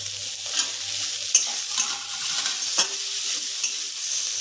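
Lightly fried potatoes sizzle in a pan as tomato is added, a steady soft frying hiss broken by several clinks and stirring knocks.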